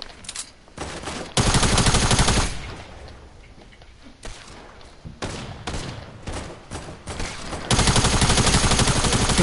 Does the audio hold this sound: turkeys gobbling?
no